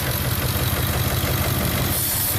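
A Ford F150 engine with a vacuum leak idles steadily with a low, rumbling drone and a faint hiss layered over it, continuous and close.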